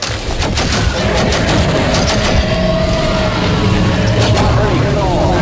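Sustained automatic gunfire aimed at approaching dinosaurs in the 2000 PC game Gunman Chronicles, a dense continuous clatter with rumbling engine-like noise underneath and shouted voices throughout.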